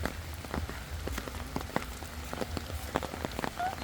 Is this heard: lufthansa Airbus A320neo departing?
no